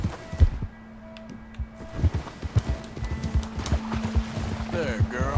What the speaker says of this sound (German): Wunderschönes Pferd